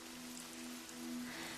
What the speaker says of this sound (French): Écoute le son léger de cette pluie, douce, régulière,